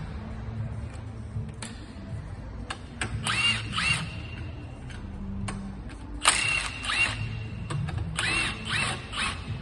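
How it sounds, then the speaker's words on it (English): A rattle gun loosens bolts during cambelt and lip seal removal on a car, giving short bursts of hammering impact that stop and start across the clip with metallic clicks in between. "I normally just give them a loosen the hand first before I use a rattle gun."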